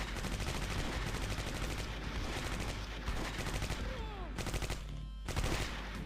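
Gunfire in the World War II tactical game Close Combat: Cross of Iron, with dense, continuous bursts of rifle and machine-gun fire rattling throughout, loud and close, and a few sharper shots near the end.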